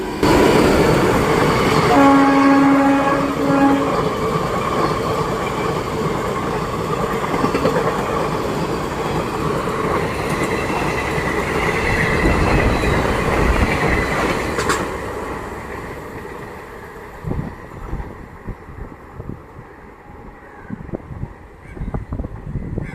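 An express train hauled by a WAP-4 electric locomotive rumbles past nearby at Vellayil station, Kozhikode, with a long horn blast early on, the loud roar gradually fading as wheels clatter into the distance.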